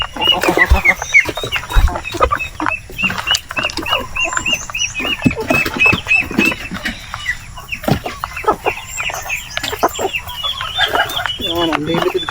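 Black Australorp chickens cluck and squawk continuously around a farm, near and loud, with other livestock noise mixed in and some human voices in the background.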